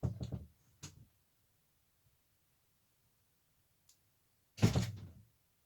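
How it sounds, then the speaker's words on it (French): Doors shut by themselves with a few soft knocks early on, then one firm closing thud after a long quiet stretch. "les portes se ferment toutes seules"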